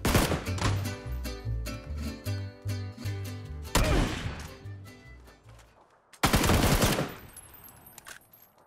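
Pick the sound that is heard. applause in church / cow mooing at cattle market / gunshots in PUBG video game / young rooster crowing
gunshots in PUBG video game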